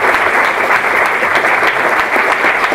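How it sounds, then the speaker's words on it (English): An audience at an evening talk on artificial intelligence claps in a steady, dense burst of applause, loud and close. "a big round of applause to our."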